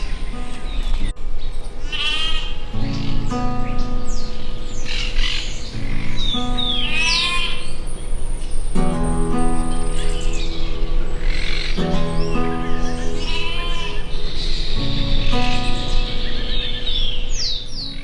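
Birds at El Ceibo in southern Uruguay: loud, repeated harsh bleating and chattering calls in bursts, overlapping against a continuous background of outdoor sound.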